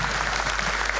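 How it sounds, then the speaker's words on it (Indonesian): An audience at a talk on Jaipongan dance breaks into dense, continuous applause, a steady wash of many hands clapping at even loudness throughout. "Tepuk tangan untuk kita semua"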